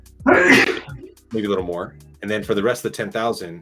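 A single loud sneeze bursts out near the mic, followed by a person continuing to talk in a casual conversational tone.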